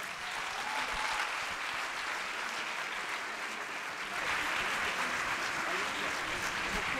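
Sustained applause from an audience at a school music concert in Murcia, dense and steady throughout, swelling slightly louder in the second half.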